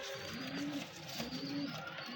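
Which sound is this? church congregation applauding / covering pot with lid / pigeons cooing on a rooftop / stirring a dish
pigeons cooing on a rooftop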